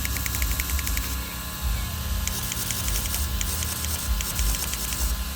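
Fast handbrake servo on an Arrma Limitless RC car whirring in quick, repeated high-pitched bursts over a steady low electric hum, close and moderately loud, no talking.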